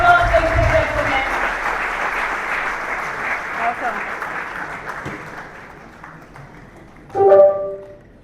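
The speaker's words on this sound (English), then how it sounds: "with a round of applause, let's welcome the Managing Director and Veterinary Surgeon at House of Beauty, Dr. Shikarambo" An audience claps to welcome a managing director and veterinary surgeon onto the stage at a campus event in Ghana. The applause is strongest at the start and fades out under a speaker's amplified voice, and a short burst of sound comes near the end.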